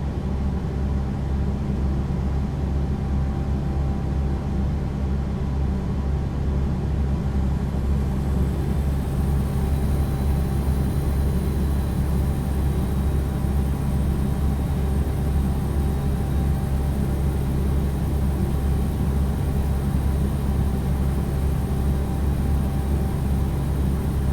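Steady low truck engine drone under heavy throttle in American Truck Simulator, a Bpx FE less-horsepower engine, continuous and even with a constant rumbling hum and no voices.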